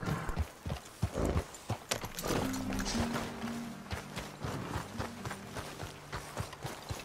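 Galloping horse in Red Dead Redemption 2, hooves clip-clopping in a fast uneven rhythm over rough ground with an occasional jump thud, close and fairly loud amid game ambience and a low musical drone.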